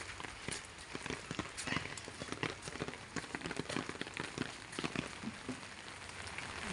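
Steady rain patters on a surface, a dense hiss broken by scattered louder drops, continuous and fairly close throughout.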